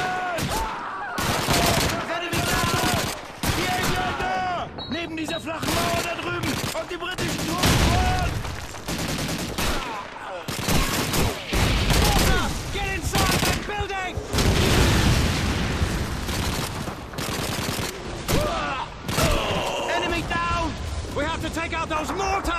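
Call of Duty 2 battle with MG-42 machine gun bursts and booming mortar blasts, loud and continuous, dense gunfire rattling throughout while voices shout over the combat.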